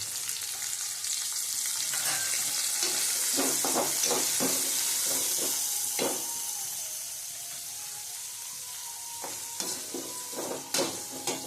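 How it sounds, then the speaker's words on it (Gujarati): Onion frying in a pan for Gujarati upma, with carrot and potato, a steady broadband sizzle throughout and occasional stirring scrapes, close and fairly loud, no talk. "આપણે આની અંદર ડુંગળી નાખી દઈશું"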